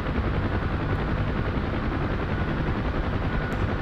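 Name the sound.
UH-1 Huey helicopter flying in DCS video game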